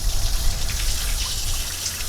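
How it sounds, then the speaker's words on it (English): Water gushes and splashes as it overflows the coolant reservoir of a Ford F-150 during a pressurized heater core back flush, a steady, close rushing wash with a low rumble throughout. "But I'm overflowing the reservoir."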